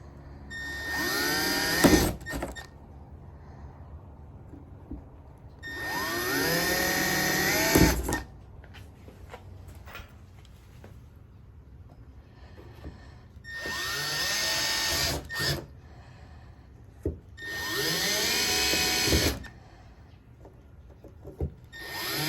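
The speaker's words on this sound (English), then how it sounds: "I'm about to drill my first hole." Power drill boring a hole into the decklid of a Ford Mustang GT500 during a wing install, in four loud whining bursts of a few seconds each with quieter pauses between.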